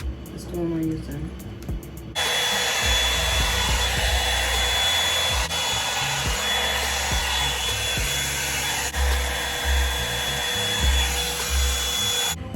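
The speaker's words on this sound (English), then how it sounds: "I'll get the hair dryer. That's the one we're using." A hair dryer switches on after about two seconds and runs steadily as a loud, constant whoosh for the rest of the clip, with some low thumps and handling noise beneath it.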